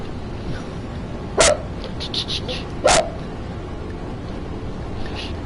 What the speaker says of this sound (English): Did he fell over the table trying to stop the dog barking?